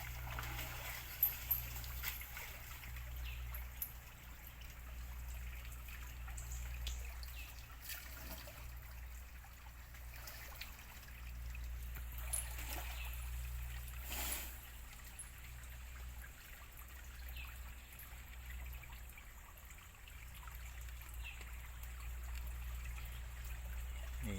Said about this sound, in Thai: เล่นน้ำลำธารเย็นๆครับ น้ำที่เย็นมากครับ น้ำธรรมชาตินี่